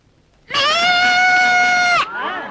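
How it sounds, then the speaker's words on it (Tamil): A goat lets out one long, loud, quavering bleat lasting about a second and a half. It cuts off sharply and a shorter, fainter cry follows. The sound comes in after a brief quiet start. "ஆடு இங்கிலீஷ்ல பேசிருச்சு"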